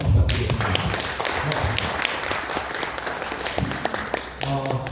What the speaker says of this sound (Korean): 감사의 큰 박수 부탁드리겠습니다